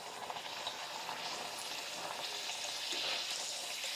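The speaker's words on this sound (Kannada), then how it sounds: "ಎಣ್ಣೆ ಕಾಯ್ದೈತಿ ನಾನು ಲಟ್ಟಿಸ್ಕೊಂಡ್ರೆ ಪುರಿ ಬಿಡ್ತೀನಿ ನೋಡ್ರಿ" Rice puri (akki poori) fries in hot oil with a continuous crackling sizzle, moderately close and fairly quiet, with no talking.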